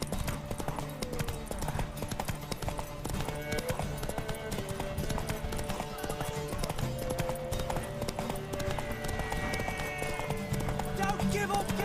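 Horse hooves clip-clopping at a run in The Witcher 3 during a race to a tower, a steady rapid rhythm of hoofbeats under game music and shouted encouragement from a character.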